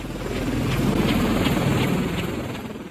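An MH-53 military helicopter drones steadily and loudly, its low rotor thrum and engine roar filling the air without a break.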